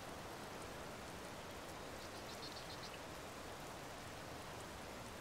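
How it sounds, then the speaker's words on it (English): Steady rain falling in the video game Tears of the Kingdom, an even, quiet hiss of drops on surfaces that continues unbroken with no voices. "now it's raining, obviously."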